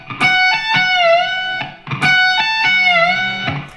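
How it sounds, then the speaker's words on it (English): Distorted electric guitar lick, played twice: quick hammer-on and pull-off notes, then a held note that dips in pitch under the whammy bar and rises back up, close and loud. "So hammer on, pull off, and then whammy bar down and up."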